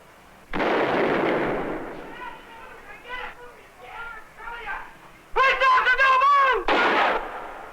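Loud gunshots fired at a police officer during a staged reenactment, a sharp opening blast followed by a rapid burst of shots near the end, with speech and shouting in between.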